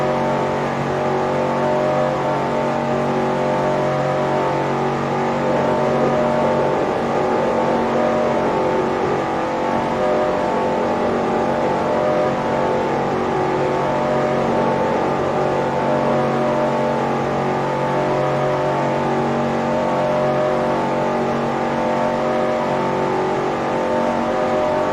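Race cars roar past in a NASCAR Racing 2003 career race, a dense, continuous engine drone with layered revving tones from a full field of stock cars, steady and loud throughout with no talk.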